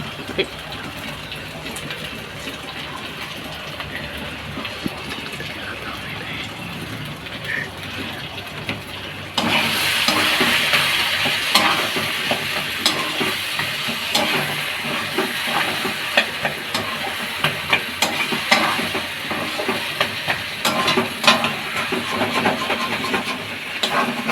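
Food sizzles and crackles steadily in a pan with little oil, sticking as it is stirred, with scraping clatter; the frying grows louder and busier partway through.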